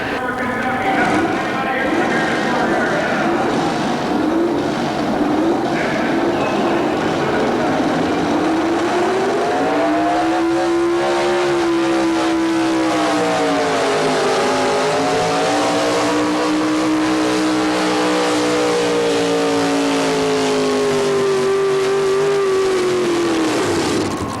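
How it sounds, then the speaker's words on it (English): Late model Chevy pulling truck at a 1987 tractor and truck pull in Louisville, Kentucky, its engine roaring loud and steady throughout, pitch dipping and rising as it strains down the track, with an announcer talking over it. "Beautiful truck, late model Chevy."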